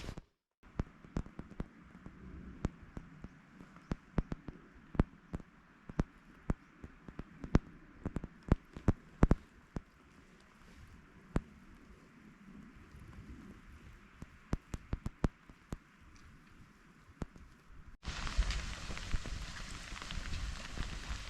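Rain falls steadily on a misty mountain hiking trail loop near Monte Reixa, a soft constant patter broken by many sharp close drops striking nearby surfaces, with the wash growing louder and brighter toward the end.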